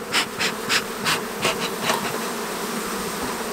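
A large mass of honeybees buzzes steadily in an open, crowded hive during a honey flow, a dense near drone with intermittent louder swells as bees move, with no talking.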